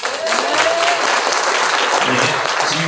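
A lecture audience at a political launch event in Cheongju bursts into loud, steady applause, dense clapping filling the room throughout, with a voice faintly speaking underneath.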